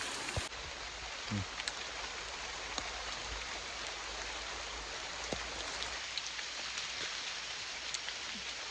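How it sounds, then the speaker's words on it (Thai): Steady rain pours down in a forest with a constant hiss, broken by scattered sharper drips and taps close by. "ฝนตกนะตอนนี้เนาะคือฝนตก"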